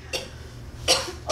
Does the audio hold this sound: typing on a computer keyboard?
no